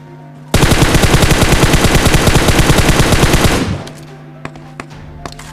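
Sustained automatic gunfire in a PUBG Mobile battle at a military base, a loud rapid burst of about three seconds that cuts off, followed by a few scattered single shots.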